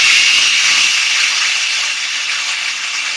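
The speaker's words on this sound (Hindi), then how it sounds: "अब मैं दोबारा इसे थोड़ा पीसना है" A mixer grinder whirs as it grinds peethi laddu mixture, a loud, steady, continuous motor hum with a bright, even tone that eases slightly toward the end.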